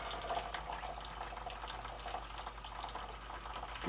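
Tap water runs steadily into a sink for rinsing off drag makeup, a constant close hiss and splash with no pauses and no talk.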